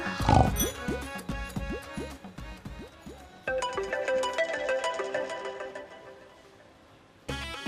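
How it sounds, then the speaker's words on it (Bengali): A phone ringtone plays a repeating melodic tune, loud and close, pausing briefly before the ringing starts again. "রিং রিং হচ্ছে।"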